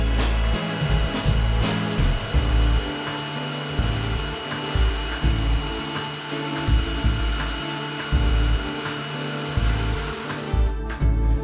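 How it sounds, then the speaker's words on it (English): A domestic pressure cleaner sprays water onto garden steps, giving a steady, loud motor whine with a hissing rush of spray that pulses and shifts as the jet moves, running continuously with no talking. "I'm just going to demonstrate to you the difference between this and a commercial pressure washer."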